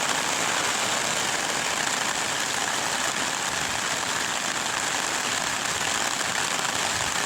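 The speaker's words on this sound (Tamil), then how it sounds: "பாருங்க எப்படி துருகிட்டு இருக்கு மழை" Heavy rain pours down in a dense, steady hiss that stays constant throughout, close and fairly loud with no voices over it.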